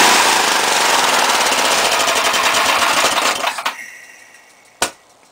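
A snowblower engine runs loud and steady during a snow storm, its rapid pulsing firing continuously before cutting out, followed by a single sharp knock.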